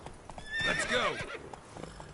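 Roach, a horse in the video game The Witcher III, neighs loudly in a shrill, falling whinny over steady clip-clop hoofbeats as it gallops, close and alone.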